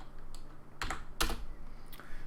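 Clacking keystrokes on a computer keyboard while a name is typed in during setup of an Unreal Engine 4 door blueprint, coming in a few irregular bursts with one louder cluster.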